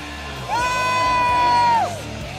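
A single loud, sustained whoop or yell at a Dota 2 esports arena during the PGL Bucharest Major, held for over a second above a background crowd murmur, then dropping away.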